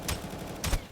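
Two quick bursts of assault-rifle fire in the video game Aimblox, near and fairly loud, one around the start and another just past the middle, each with a sharp crack and low thump.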